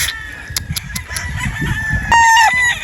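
A Sweater Boston gamecock broodstag crows loudly at close range, with soft clucking and scratchy rustling before the drawn-out crow rises near the end.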